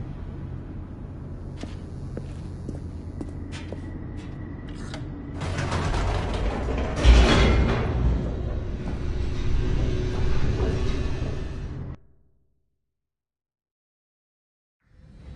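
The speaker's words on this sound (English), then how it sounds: "The elevator raced downward, plummeting towards an unknown fate." An elevator descends in The Stanley Parable, with mechanical clanks and creaks building into a loud grinding, rattling rumble that runs steadily, then cuts off abruptly into silence.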